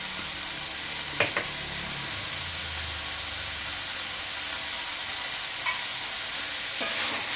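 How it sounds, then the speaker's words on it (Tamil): Chicken masala with pepper frying in sesame oil, a steady broad sizzle and hiss with a few brief stirring clinks, close and continuous with no talking. "நல்லா செவக்க வறுத்துக்கலாம்"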